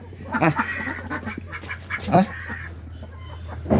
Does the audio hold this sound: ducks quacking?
yes